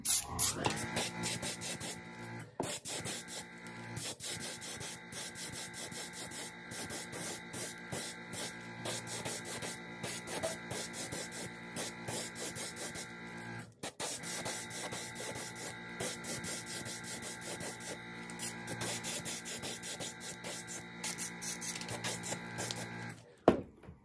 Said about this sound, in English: Sorry if my compressor's loud. Um, it's just a cheap one from Harbor Freight.